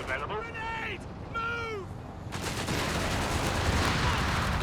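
Grenade blasts and gunfire in the strategy game Company of Heroes 3 erupt into dense rolling battle noise after a voice talks over the opening moments, while sharp volleys continue loudly to the end.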